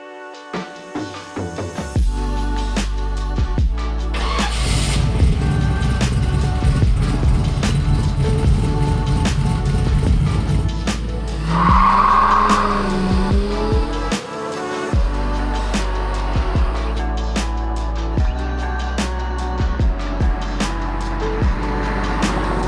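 A 1978 Corvette fitted with quiet mufflers starts and drives, its engine a steady, fairly loud low rumble that rises briefly as it pulls away and keeps running throughout.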